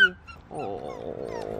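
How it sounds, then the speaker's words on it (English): A Volga Wolfhound growls at puppies, a sustained, steady vocal rumble lasting over a second after a brief earlier sound, heard close and fairly loud. "He's growling at the puppies, not me."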